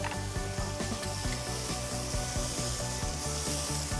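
A tri-tip steak sizzles steadily and loudly in a pan, a dense continuous frying hiss with faint rhythmic rubbing or scraping underneath, no talking.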